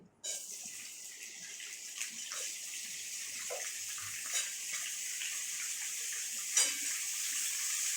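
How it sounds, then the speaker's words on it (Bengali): Potatoes fry in oil with a constant, dense sizzling hiss, up close and unbroken, with small pops now and then. "আলুটা লাল লাল করে ভেজে নেব।"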